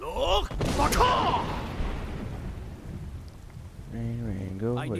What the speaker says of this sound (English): Not a big fan of the rain,